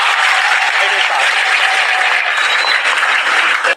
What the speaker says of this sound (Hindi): लेकिन एक बार हम यह चाहते हैं कि आप अपने लिए एक बार फिर से ताली बजाइए